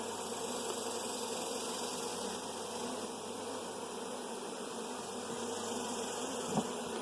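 Honey bees from a young hive drone in a steady, close swarm during a hive inspection, a continuous buzz with no talking.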